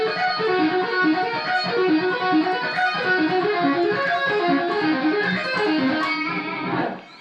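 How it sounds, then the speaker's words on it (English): Electric guitar playing a fast, string-skipped arpeggio lick from a live solo, with a continuous run of evenly spaced distorted notes repeating in a rising and falling pattern and ending abruptly. "Here's a string skipped arpeggio from this live solo"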